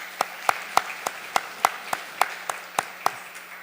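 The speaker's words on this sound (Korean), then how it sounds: "우리 박수로 이분들을 격려합시다." Sparse, evenly spaced hand claps ring out in a church sanctuary during a Sunday service, about a dozen sharp slaps with a faint room echo, no voices.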